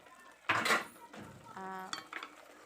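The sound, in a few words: cooking pot and pan being handled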